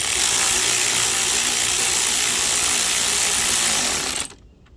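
A power tool runs steadily and loudly while bolts are tightened during timing belt work on a third-generation Mitsubishi Eclipse GTS, the whine cutting off abruptly near the end and leaving quiet.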